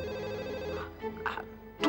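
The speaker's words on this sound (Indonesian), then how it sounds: "Aduh, pakai ada telepon lagi." A telephone rings with a steady electronic ringtone pattern, fairly close, while brief voices break in near the end of the short burst.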